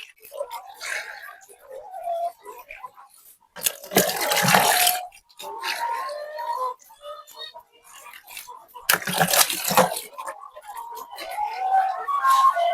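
Water poured out for chickens on a layer poultry farm, two loud broadband gushing splashes a few seconds apart, with clucking birds and farmyard noise continuing between them.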